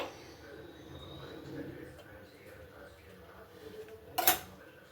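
A frying pan and utensils clink during carrot cooking, one sharp metallic clatter standing out near the end over a quiet kitchen background with faint talk.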